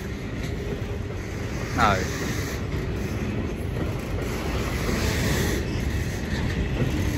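A train passes through Ely station on the Fen line, heard as a steady broadband rumble of rail noise throughout, with a brief squeal partway through and background voices faintly present.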